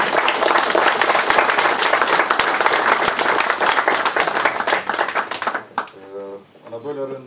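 An audience at a college council meeting applauds to thank Mrs. Maria Jandie for sixteen years of work, dense steady clapping filling most of the clip before fading as a voice resumes speaking.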